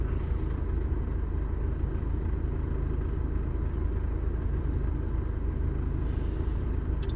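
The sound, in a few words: car engine idling in neutral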